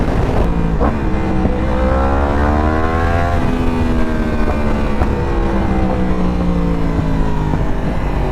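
A Yamaha R1M sport motorcycle rides at high speed on an open road, its engine screaming loud and steady with rising and shifting tones as it climbs through the gears, drowned in constant wind roar.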